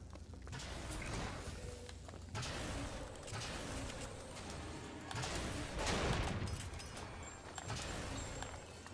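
Gunfire in the video game Bioshock Infinite: repeated bursts of shots blending into a busy, moderately faint battle din, with a few sharper cracks standing out.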